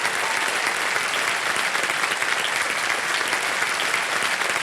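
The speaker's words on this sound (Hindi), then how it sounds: "तालियां बज जाए इनके लिए।" A studio audience on the quiz show Kaun Banega Crorepati breaks into dense, continuous applause that stays loud and even from start to finish, with no talking over it.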